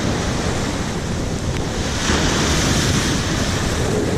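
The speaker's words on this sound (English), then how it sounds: "This is just a windy day." Steady roar of wind buffeting the microphone over continuous crashing surf, loud and unbroken throughout with no voices.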